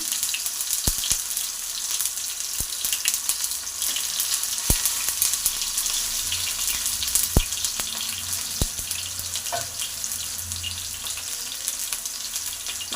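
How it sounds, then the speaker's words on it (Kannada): Tomatoes frying in hot oil in a pan, a steady broadband sizzle running throughout with a few sharp clicks and pops, close and moderately loud, no talking. "ಟೊಮೊಟೊನು ಚೆನ್ನಾಗಿ ಫ್ರೈ ಆಗ್ತಾ ಇದೆ"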